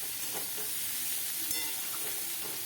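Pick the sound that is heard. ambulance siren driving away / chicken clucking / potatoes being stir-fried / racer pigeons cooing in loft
potatoes being stir-fried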